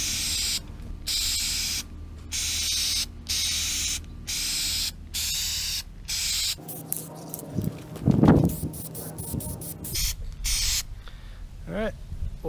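Spray paint hisses in a rhythmic series of short bursts, close by, as a full-size R2D2 radar eye is coated, then stops and gives way to quieter handling noises.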